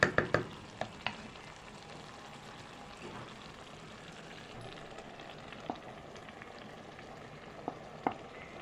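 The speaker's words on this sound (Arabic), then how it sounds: "هقلب الصلصه بتاعتي كلها كده تقليبه، وهسيبها بقى علشان تتسبك" Tomato sauce simmers gently in a pan, a faint, steady bubbling hiss with a few light clicks from a spoon stirring at the start and now and then after.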